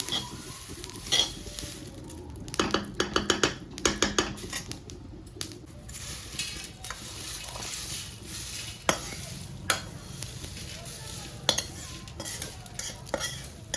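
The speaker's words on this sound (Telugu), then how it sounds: "మొత్తం ఇట్లా వేగాలి బాగా" Curry, drumstick and chennangi leaves roasting on a low flame in a pan for a spice powder, with repeated scraping stirs and clinks over a soft, steady sizzle, close up and with no talking.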